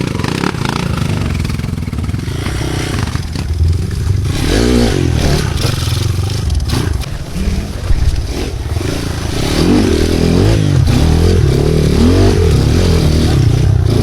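An enduro motorcycle engine revs and labors steadily, loud and close throughout, with occasional clatter and scraping, rising louder toward the end.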